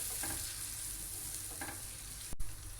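Satay sauce paste sizzles steadily in a hot pan while being stirred, with soft scraping strokes over a continuous frying hiss and no talk.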